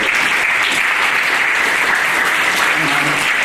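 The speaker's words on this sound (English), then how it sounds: "Please give them a round of applause." Steady round of audience applause for panelists at the close of a panel discussion, dense continuous clapping filling the whole short stretch at close range.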